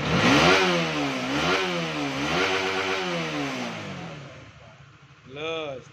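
A Honda CBR 150 motorcycle engine with lost compression idles close by, its tone wavering up and down unevenly, before a brief voice near the end.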